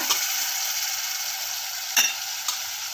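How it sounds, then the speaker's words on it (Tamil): Eggplant pieces frying in hot oil in a pan, a loud, dense, steady sizzle throughout, with a couple of brief clinks of a utensil stirring near the end. "இப்போ வந்து கத்திரிக்காய் நம்ம முட்டு முட்டாக அரிஞ்சு வச்சுருக்க கத்திரிக்காயை சேர்த்துடலாம் உள்ளே"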